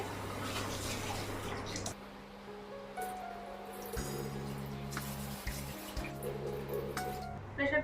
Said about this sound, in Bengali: এবার একটু ধুয়ে নেবো ডালিয়াটাকে